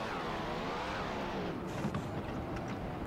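A Formula One car in the F1 2015 racing game on PS4, pitting at the Canadian Grand Prix, its engine drone holding steady and near as it runs into the pit lane at full speed, with no talk.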